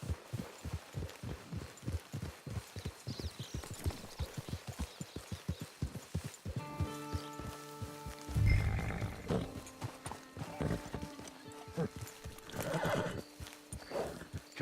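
Rhythmic hoofbeats clip-clop steadily in Red Dead Redemption 2 Online, then a horse lets out a loud, drawn-out neigh, followed by snorts and more movement close by.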